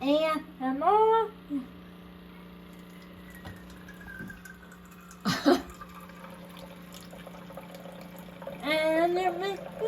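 A home coffee machine dispenses a drink after a button press, giving a steady liquid pour and pump hum beneath nearby speech, with a few brief clicks and a louder burst midway.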